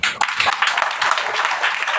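An indoor audience at a sales training seminar claps together, dense, even applause from many hands lasting a couple of seconds, close and loud with no voices over it.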